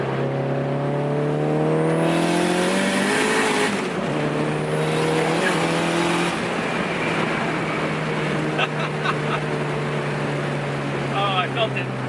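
Modified 550+ hp 2005 Dodge Neon ACR accelerating hard, its engine roar climbing steeply through gears with shift breaks, loud and close from inside the cabin, then settling to a steady drone as people talk over it.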